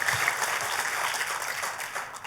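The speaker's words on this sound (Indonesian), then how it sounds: "Ayo kita kasih tepuk tangan yang paling meriah buat Tuhan kita." A church congregation claps together in a steady, dense burst of applause heard from within the hall, moderately loud and without a break.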